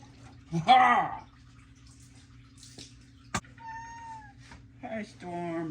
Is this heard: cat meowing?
yes